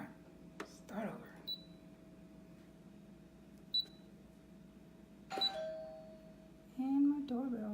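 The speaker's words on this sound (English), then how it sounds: "And my doorbell rings." A doorbell chimes in a home, giving several short, clear ding tones scattered among quiet room sounds, with a voice speaking briefly near the end.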